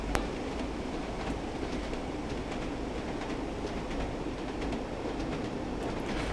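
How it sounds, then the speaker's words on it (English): A simulated train in Train Sim World on the Northern Trans-Pennine route rolls over the rails, giving a continuous rumbling roar with faint repeated clickety-clack wheel beats, steady and fairly quiet throughout. "I love the sounds as well, the clickety-clack as you're going over"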